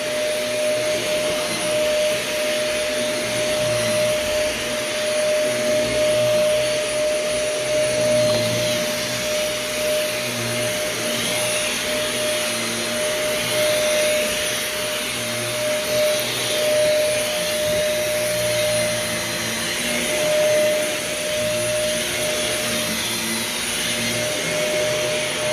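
A carpet-cleaning vacuum runs steadily and loudly throughout on heavily soiled, worn carpet, its constant roaring whine with a sharp high tone holding even with no pauses and no talking.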